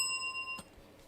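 A small bell rings out once with a clear sustained tone that fades over a second, then a short sharp knock follows, heard alone and fairly quiet.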